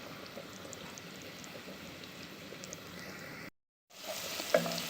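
Garlic stuffing mix for stuffed grape leaves sizzles steadily in hot oil, a close, even hiss that breaks briefly and then comes back louder.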